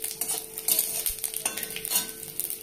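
Whole spices—five-spice blend, cumin and mustard seeds—crackle and sizzle in hot oil for a lentil dish, with soft stirring scrapes and faint clinks of a utensil against the pan, close up and without talk.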